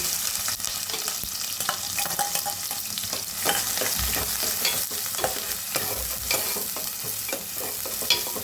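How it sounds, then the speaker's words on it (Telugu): Two small chopped onions fry in hot oil in a pan, a steady close crackling sizzle broken by frequent scraping stirs. "2 చిన్న సైజు ఉల్లిపాయలు కట్ చేసి ఫ్రై చేస్తున్నాను."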